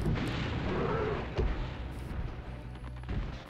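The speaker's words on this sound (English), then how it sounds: "I think I was far enough away from the uh, explosion" Explosion in the Spyro 2: Ripto's Rage video game, a broad rumbling burst of game audio that fills the whole clip with a sharper thump partway through, loud and sustained.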